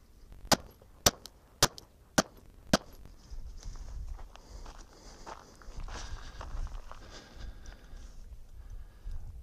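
Five sharp gunshots from a rifle fitted with an AAC barrel with traditional cut rifling, firing 147 grain Speer Lawman rounds in a velocity test, ring out in an evenly spaced, loud, close series, followed by quieter outdoor background noise.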